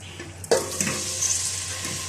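Onion and half a kilo of beef frying in about half a cup of oil, a sudden sizzle flaring up as food meets the hot oil, then a steady crackling hiss with light stirring scrapes, close and moderately loud.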